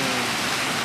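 Dense, loud, continuous roar of heavy rain pouring down in Palangkaraya, broadband and steady with no pauses or voices.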